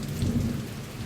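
Rain pours steadily while thunder rumbles low and heavy, a brief, continuous stormy wash with no voices.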